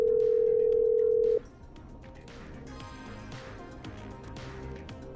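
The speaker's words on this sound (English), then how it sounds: "Okay, I'm dialing." Telephone dial tone in a radio DJ horror video game, a loud steady tone for just over a second that cuts off abruptly, followed by a muffled, low background hum and faint clatter.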